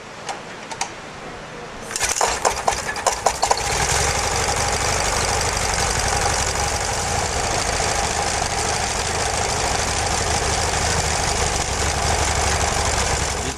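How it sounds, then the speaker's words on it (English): A vintage stationary engine at a Jowett car rally at Cannon Hall near Barnsley starts with a few uneven chuffs, then settles into a loud, steady, rapid running beat that continues close by with no talk. "These stationary engines are quite rare now"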